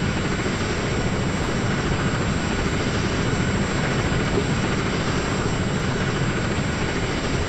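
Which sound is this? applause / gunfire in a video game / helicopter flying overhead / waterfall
helicopter flying overhead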